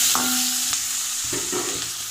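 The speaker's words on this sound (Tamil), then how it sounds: "கொஞ்சமாக சின்ன வெங்காயம், 3 தக்காளி, 4 பல் பூண்டு சேர்த்து எண்ணெய் ஊற்றி நல்லா வதக்கிக்கலாம்" Shallots, tomatoes and garlic sizzle steadily in hot oil while being sautéed and stirred in a pan, with a few scraping stirs over continuous frying hiss and no talking.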